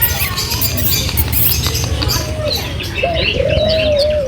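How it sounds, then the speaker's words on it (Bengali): White pigeons cooing outdoors, a few soft low coos near the end over a steady background murmur and faint chirps. "এখানে আমাদের তো পায়রা আছে আর এখানকার পায়রাগুলো একদম সাদা সাদা সাদা পায়রা"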